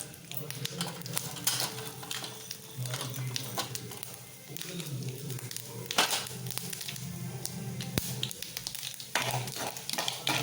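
Mustard seeds and urad dal crackle and sputter in hot oil, with a spoon stirring and clinking against the pan and occasional sharp pops.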